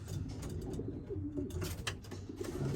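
Racing pigeons coo in a loft, giving repeated low, throaty calls that overlap close by, with light rustling and movement among the birds.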